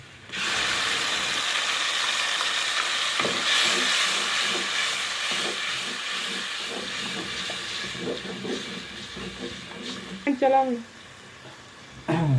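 Ginger garlic paste sizzles and hisses steadily in a pan of browned onions for an aloo matar curry, a continuous loud frying crackle with a few clinks and brief voice sounds near the end.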